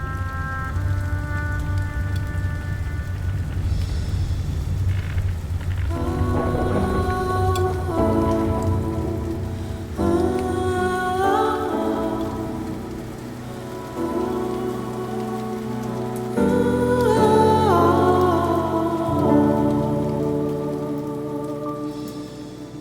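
Steady rain beats down through a storm, with low rumbling thunder underneath and layered tonal music swelling over it for the whole stretch; no voices are heard.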